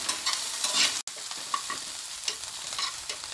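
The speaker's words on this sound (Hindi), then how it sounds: "अदरक को भी हम डाल देते हैं और इसे भी हम थोड़ा फ्राई कर लेते हैं" Grated ginger fries in a pan, giving a steady close sizzle with stirring scrapes throughout and a momentary cut near one second.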